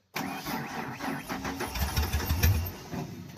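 A Ford engine running VW injectors is started in gear. It fires abruptly and sputters into a rough, close running note that swells with heavier low-end pulses.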